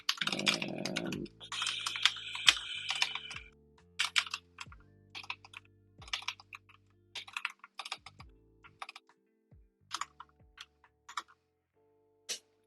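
Typing on a computer keyboard while cleaning up old code, bursts of close, crisp key clicks in irregular runs with pauses, some heavier thocks from larger keys, no talk.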